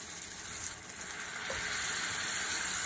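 Rajma (red kidney beans) hitting a hot pan of spices, giving a steady, close sizzle and frying hiss throughout, with no voices.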